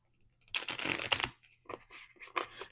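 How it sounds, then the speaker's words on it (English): A deck of playing cards shuffled by hand at close range, a crisp riffling burst of about a second followed by a few shorter, quieter shuffles, with no talking. "So I'm just going to shuffle these really quick."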